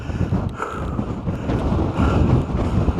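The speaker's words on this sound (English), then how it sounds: "As you can hear, it's a wee bit windy." Strong wind on top of a high hill buffets the microphone with low, rumbling gusts that rise and fall over a few seconds. There is no talk.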